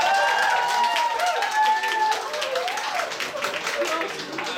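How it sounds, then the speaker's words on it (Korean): Audience applause at a live band show in a club for the performer's young son, a burst of clapping and crowd noise that starts strong and fades somewhat, mixed with talking and a sustained musical tone. "자, 제 아들에게 큰 박수 부탁드릴게요."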